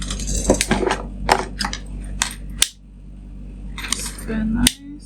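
Scissors trim loose threads on a sewn fabric pouch in a few sharp, close snips and clicks spread unevenly over several seconds, with quiet handling noise between cuts.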